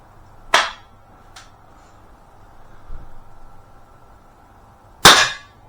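An air pistol, a Webley Tempest or Beeman P17, fires in a quiet setting: two sharp, loud cracks about four and a half seconds apart, with a fainter snap shortly after the first.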